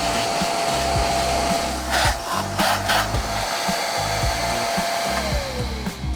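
A vacuum cleaner running without its wide attachment while cleaning the inside of a van. It gives a steady, loud, close whine with a broad hiss, and brief scraping and knocking sounds come through as the nozzle moves along the surfaces.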